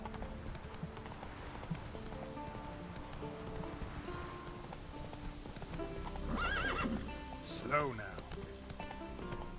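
Roach, the horse in The Witcher 3, clip-clops steadily at a run and then lets out a clear neigh near the end, with a short spoken remark over the hoofbeats and game music.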